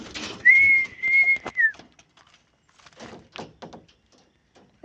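Pigeons around a small mini loft: a clear whistled tone near the start, then scattered flutters, thumps and soft rustles, close by with quiet gaps between.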